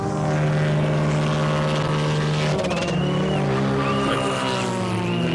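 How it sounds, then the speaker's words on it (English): A Toyota rally car at a national rally launches from the start, its engine revving hard and climbing through gears, loud and close before receding. "Dion Kretzmann and Jason Schreiber in the Toyota get off well."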